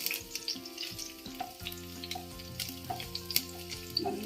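Garlic sizzles and fries in a little oil in a pan for a Schezwan chicken, a soft steady crackle with scattered pops and occasional stirring clatter, no one talking.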